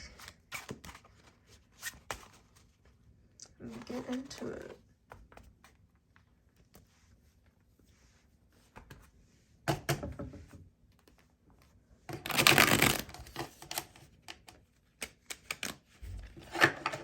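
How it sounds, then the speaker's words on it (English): Cards being shuffled in short riffling bursts, with a loud rapid flutter near the end, separated by quiet pauses and a brief spoken phrase. "I'm going to go ahead and shuffle this"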